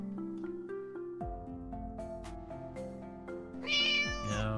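A synthesized cat meow rises near the end over a bouncy, tuneful electronic game melody with plucked notes. No one speaks.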